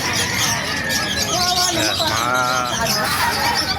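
Assorted birds for sale at a bird market in Bocaue, chirping and tweeting close by amid market bustle, with people talking over them.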